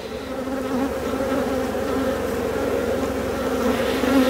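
Honey bees drone steadily around a swarm hive on the Mediterranean coast, a dense close continuous buzz with no talk.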